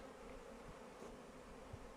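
Honeybees buzz steadily around the flight entrance of a weak hive being prepared for winter, a continuous close droning hum with no voices.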